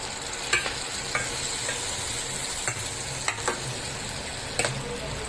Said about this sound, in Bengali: এবার আমি এর মধ্যে মিক্সির জার ধোয়া জলটাও দিয়ে দিচ্ছি।